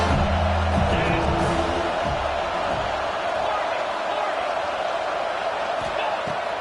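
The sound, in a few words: home crowd cheering loudly at USC football game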